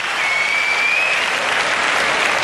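A large arena crowd claps steadily and loudly, a dense, continuous wash of applause for a Japanese female team kata performance at a karate world championship.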